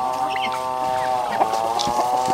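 Native chickens in a farm pen cluck and murmur close by, a steady run of overlapping calls with no talking.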